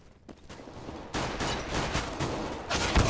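Rapid bursts of automatic sniper rifle fire in Counter-Strike: Global Offensive, a loud rattling volley that starts abruptly after a quiet moment and keeps going with a sharp final shot.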